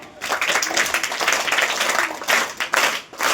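An audience at a Zilla Parishad primary school event in Pimpri Sayyad, held for Annabhau Sathe's birth anniversary, bursts into loud, dense applause, with steady clapping that surges and dips across the moment.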